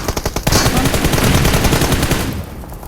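Gunfire in a shooter video game match, a loud rapid burst of automatic shots with dense overlapping reports, close and continuous for nearly three seconds.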